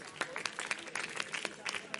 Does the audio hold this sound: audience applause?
yes